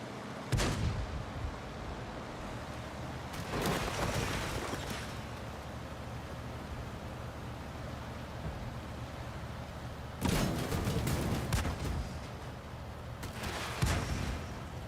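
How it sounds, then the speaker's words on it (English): Tank cannons and gunfire in a World War tank video game, several heavy booming shots spaced several seconds apart, each with a long rumbling tail over a constant low engine drone. "Just random people just shooting."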